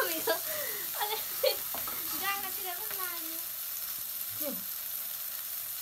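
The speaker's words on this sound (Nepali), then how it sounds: "यहाँ चाहिँ हाम्रो अब टक्कसितले चप बन्दैछ हाम्रो मम्मीले यहाँ पकाउँदै हुनुहुन्छ" Potato chops frying in a pan with a steady hiss and sizzle throughout, a voice talking over the cooking at moderate distance.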